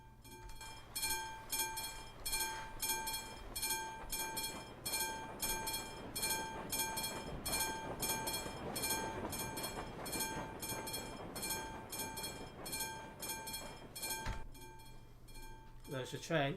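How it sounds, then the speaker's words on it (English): A train rumbles past with rhythmic clickety-clack and a horn in Euro Truck Simulator 2, fairly loud and sustained, fading near the end while someone talks over it. "There's a train."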